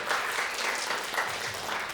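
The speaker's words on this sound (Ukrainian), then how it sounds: "Давайте поаплодуємо." Studio audience at a live roast battle comedy show applauding, a steady dense wash of clapping for about two seconds with no voices on top.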